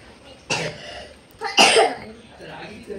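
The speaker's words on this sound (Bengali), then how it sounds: "মিষ্টি বলে বেশি কাশি হচ্ছে" Two sharp coughs from a nearby person about a second apart, the second harsher and longer, followed by quiet room noise.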